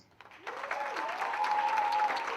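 Applause for the third-place winner of an individual category at the Exxaro Virtual PIT Symposium 2020 starts after a brief pause and builds into steady, moderately loud clapping, with a sustained tone running beneath it.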